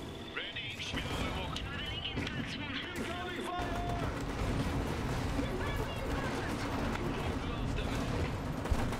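Booming blasts of cannon fire in Iron Harvest echo through a dense, continuous battle din, with repeated impacts layered over steady background noise.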